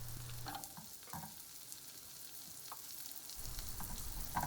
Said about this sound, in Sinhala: කරපිංචායි ගාර්ලිකුයි විනාඩියක් විතර ෆ්‍රයි වෙන්න තියෙනවා.